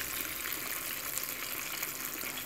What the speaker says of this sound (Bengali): ফ্রাইটা মিডিয়াম হিটে হবে তেলটাকে আমি একদম গরম করে নিয়েছি